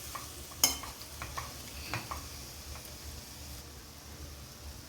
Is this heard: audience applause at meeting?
no